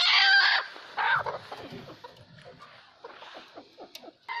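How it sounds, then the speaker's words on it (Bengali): Egg-laying desi hens clucking and squawking close by, a loud burst at the start followed by a run of shorter, fainter clucks and cackles. "এগুলো সব ডিম পাড়া রানিং মুরগি কিনলাম"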